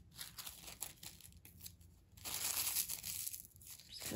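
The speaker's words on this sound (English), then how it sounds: "I wonder if I crumple it up also, that might just add some more fun texture" Scraps of vintage sewing pattern paper crumpled by hand for a junk journal, giving close crinkling and crackling in uneven bursts that grow louder toward the end.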